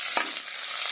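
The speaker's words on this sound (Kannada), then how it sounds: "ಒಗ್ಗರಣೆ ರೆಡಿ ಆಗ್ತಾ ಇದೆ." Tempering of urad dal, mustard seeds, sesame, dried and green chillies and curry leaves in hot oil gives a loud, steady sizzle, with a brief stirring scrape near the start and no talk.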